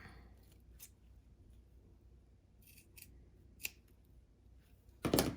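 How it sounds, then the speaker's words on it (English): Scissors trim the seams and tip of a small fabric jacket for a doll in a few quiet, crisp snips spread apart, ending in a louder cluster of cuts. "Now I'm gonna trim the tip and my seams a little bit."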